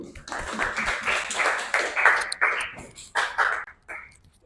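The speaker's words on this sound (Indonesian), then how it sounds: "Tepuk tangan untuk Zain dan juga Evan." A classroom of students claps for two classmates, a scattered, uneven patter of hand claps that stays fairly close, with a few voices mixed in and the clapping tapering off in separate bursts.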